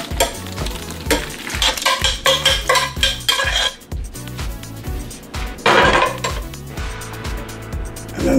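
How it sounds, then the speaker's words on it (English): Rigatoni pasta and a ground beef sauce in a big pot, stirred with clinking utensil knocks and scraping in an uneven rhythm, close and fairly loud with a faint sizzle underneath. "Now I'm just gonna add the pasta."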